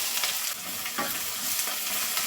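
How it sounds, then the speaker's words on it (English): Onions frying in about three tablespoons of vegetable oil in a pot, giving a steady, close, dense sizzle with a few stirring scrapes and no voices. "I'm going to fry the onions."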